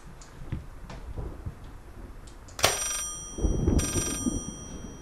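An old telephone rings in the horror game Layers of Fear, two bright metallic bursts sounding clearly over soft footsteps and creaks in a quiet room.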